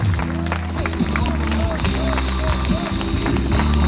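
A crowd applauds continuously at an outdoor sports festival in Palanga, steady dense clapping with a low rhythmic thump and crowd murmur running throughout.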